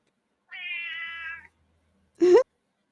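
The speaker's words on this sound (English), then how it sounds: "Why is the egg meowing?" A long, steady, tonal meow, followed after a pause by a short rising meow; close and clear with no other sounds.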